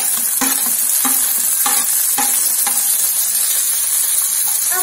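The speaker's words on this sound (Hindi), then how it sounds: "टमाटर डाल देंगे।" Chopped tomatoes added to golden fried onions in a hot pan for green pea chaat, giving a steady loud sizzle with repeated scraping stir strokes throughout.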